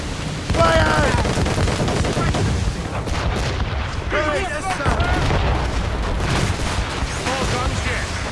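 Ship cannons in the Assassin's Creed Rogue video game boom in a loud, rolling naval barrage. Heavy blasts overlap and rumble throughout, while voices shout between them.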